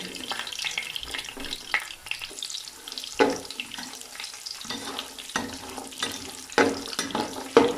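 Walnut kernels and raisins fry lightly in a pan for jaggery sweet rice, a soft close sizzle punctuated by repeated scraping and stirring strokes.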